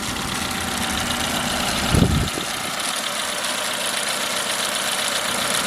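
A 2009 Chevrolet Matiz, recently misfiring, idles steadily at close range with a faint light tapping in the engine note and a brief louder thump near the two-second mark.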